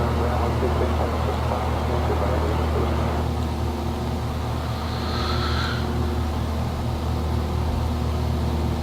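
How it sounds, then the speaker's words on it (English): A light aircraft's piston engine idles in the X-Plane 11 flight simulator, a steady close droning hum with layered tones and a faint whine rising briefly midway, unchanging throughout. "Let the engine come up to temperature."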